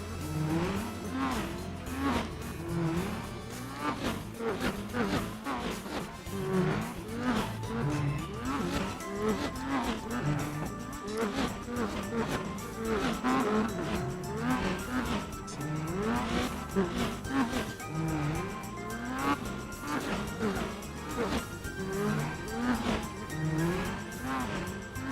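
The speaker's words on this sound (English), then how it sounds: "I can hear that RX-8's engine." Mazda RX-8 rotary engine in the racing video game Gran Turismo 4, revving steadily at high pitch for the whole stretch, with rising and falling pitch as gears change, loud and continuous with no talking.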